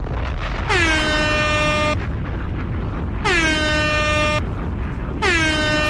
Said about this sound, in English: 3 air horn blasts here for the French for being awesome